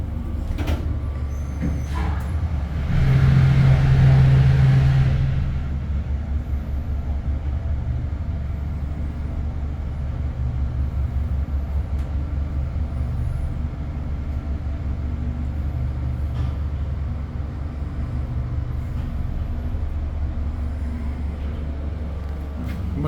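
Dover hydraulic elevator motor in a parking garage, low on oil and cavitating, running as a steady low drone and hum that holds through the whole stretch, with a louder hissing surge and tone early on.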